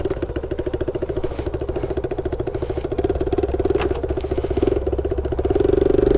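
A Honda Trail 90 motorcycle engine runs close and steady, its fast, even putter holding a constant idle that swells slightly louder toward the end.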